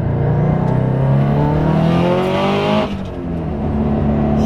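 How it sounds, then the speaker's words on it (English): A 500-horsepower Subaru STI accelerates hard in second gear, the engine note climbing steadily and loudly before a brief dip at the shift, then pulling again, with no talking. "let's try and give her a little bit of 2nd gear sauce"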